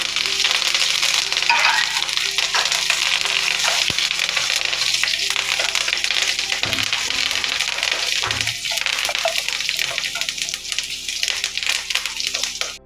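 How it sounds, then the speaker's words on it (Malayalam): Shallots and curry leaves fry in hot coconut oil with mustard seeds for Kerala-style drumstick thoran, giving a loud, continuous sizzle with scattered crackles and occasional clinks of stirring. "കടുക് പൊട്ടി ഉള്ളി കടുക് വറുത്താണ് ഉണ്ടാക്കിയത്."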